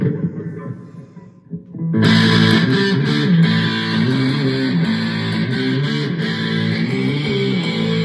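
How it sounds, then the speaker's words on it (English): After a quiet, muffled start, loud distorted punk rock with driving guitars and drums bursts in and plays steadily through a ZEALOT S32 PRO portable speaker. "Punk song."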